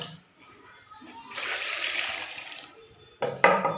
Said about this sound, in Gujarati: તો બધા બાટલા જગ ને બધું ભરવાનું છે પાણી